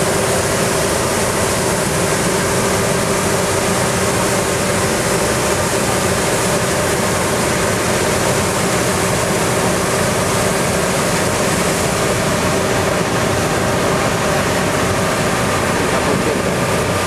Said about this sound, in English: you'll see the tractor that's going to pull up now with the Perrard chaser beam trailer.